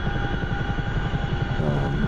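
Simulated Chinook helicopter in DCS flight, its rotor chopping in a steady rapid beat over a continuous engine whine, loud and unbroken throughout.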